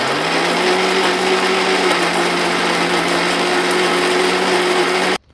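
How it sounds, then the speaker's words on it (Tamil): A kitchen mixer grinder whirs loudly and steadily as it shreds old mattress cotton, a high continuous motor whine that cuts off abruptly at the end. "திட்டமாக ஒரு கைப்பிடி அளவுக்கு அந்த மிக்சிக்கு தேவையான அளவுக்கு நீங்கள் பஞ்சு போட்டிங்கன்னா பூ மாதிரி வந்துடும் அந்த பஞ்சு"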